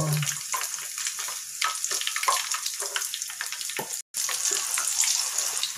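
Egg bondas frying in hot oil give a steady, loud hiss and crackle of sizzling and splattering that runs continuously, with one brief gap, and no voices.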